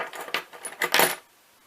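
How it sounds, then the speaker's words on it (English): A small bunch of everyday-carry keys jangles and clinks in several quick metallic bursts close to the microphone, then falls silent. "So that's my keys there."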